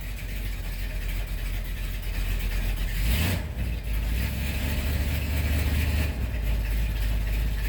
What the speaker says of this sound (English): Yep, seemed to start it right up, idling well.